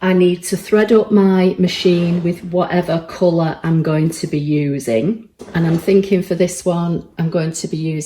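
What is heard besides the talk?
No everyday noises stand out.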